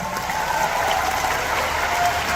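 Steady, dense clapping from a comedy show audience at a live Kapil Sharma performance in the USA, loud and sustained throughout with no voices on top.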